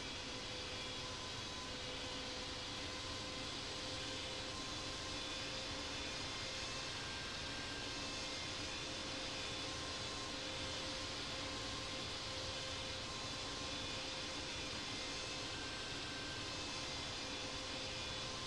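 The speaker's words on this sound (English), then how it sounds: "Taxiing to runway 24 right" An airliner in the Infinite Flight simulator taxis toward runway 24 right at Los Angeles, giving a steady, unbroken engine hum and hiss with faint tonal whine that holds at an even level throughout, with no voices.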